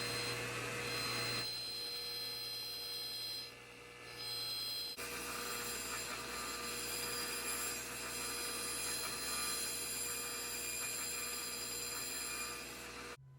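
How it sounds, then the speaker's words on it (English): A sword's edges are worked over with 400 grit structured abrasive, giving steady close rubbing and grinding from a power tool. There is a short dip partway through, then the sanding runs on continuously with no voices. "A quick once over with our 400 grit structured abrasive will clean those edges up nicely"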